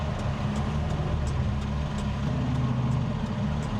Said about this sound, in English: Here, doing this lopey idle thing.